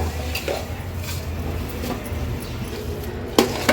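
Semolina sheera with sugar is stirred in a pan, with continuous scraping and shuffling from the spoon, a low kitchen rumble and one sharp metallic clank near the end.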